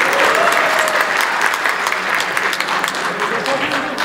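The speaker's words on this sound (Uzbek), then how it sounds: "Bir qarsakchalanglar qani." An audience at a stand-up comedy concert breaks into sustained, loud applause, a dense crowd clapping that holds steady throughout and then thins slightly near the end.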